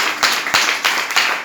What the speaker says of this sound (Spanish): Dale un aplauso al Dios de gloria.